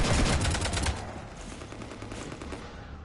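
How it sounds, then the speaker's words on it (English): Rapid bursts of automatic gunfire from the video game Mass Effect, dense and loud at first, then continuing as a quieter rattling spray of shots with no talking over it. "You want to stop shooting up my ship?"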